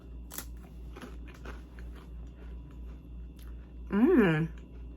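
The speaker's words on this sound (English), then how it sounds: "Put some on a cracker and see what it's like just plain." Crisp bites and crunching of a cracker topped with creamed feta dip, made with lemon juice and honey, a few short crunches up close and fairly quiet, followed by a brief voiced hum.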